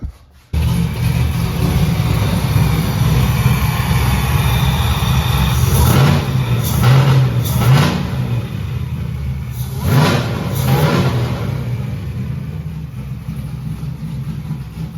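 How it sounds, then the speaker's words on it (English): A supercharged LSA 5.3 V8 engine in a Nissan 240SX Kouki firing up, then idling loudly and close, with two bursts of sharp revving around the middle before settling back to a rough idle. "I'm gonna fire it back up and get a couple revs for you guys"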